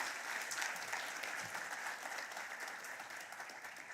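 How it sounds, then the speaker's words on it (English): An audience at an awards ceremony in Swakopmund, Namibia claps in sustained applause, a dense, even patter of many hands heard from within the hall, holding steady for several seconds without talk. "Let's give him a round of applause"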